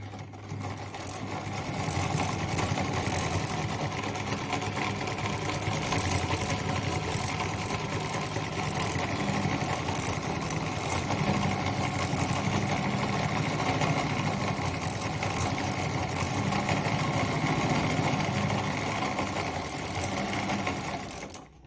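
A Singer 206K sewing machine runs steadily at a wide stitch setting, its motor whirring continuously and fairly loud for about twenty seconds with no voices over it.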